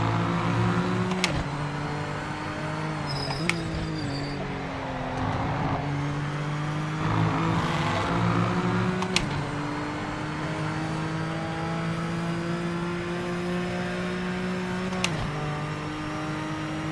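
A car engine holds high revs while its tyres spin, a continuous droning roar with a few sharp clicks and pitch shifts, close by and without talking.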